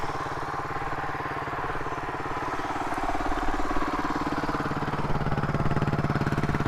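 Suzuki DR250S motorcycle with an eBay exhaust baffle idling close by, a steady pulsing single-cylinder thump that swells slightly in the second half, with no voices over it.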